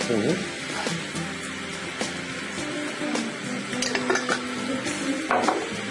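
A spatula scrapes and clinks against a pan while stirring cream sauce for steak au poivre, with a faint sizzle underneath and people talking over the steady clatter.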